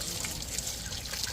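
Water trickles and pours steadily over an item that had been soaking in seawater, rinsing it in a continuous close splashing stream with no pauses.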